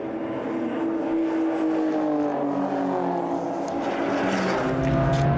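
Race cars in a BMW race series in New Zealand, including a 318i, roar past, a sustained engine whine rising and falling in pitch as cars accelerate and shift, loud and steady.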